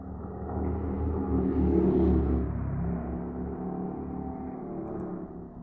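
A Harley-Davidson cruiser motorcycle, a Breakout or V-Rod, rumbles past at a distance, swelling to a peak then fading as it rides away, no voices.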